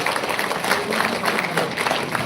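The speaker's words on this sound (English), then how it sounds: "let's give him a huge round of applause" An audience at an academic session with visiting delegates gives steady applause, dense clapping at a constant moderate loudness for a couple of seconds with no speech.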